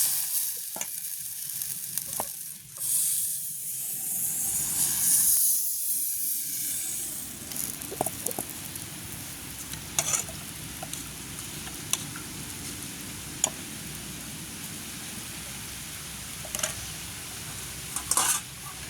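Appam batter poured into a hot pan in a village kitchen, sizzling and hissing steadily across the whole stretch, with a few sharp clicks and taps of the pan over the frying sound and no talking.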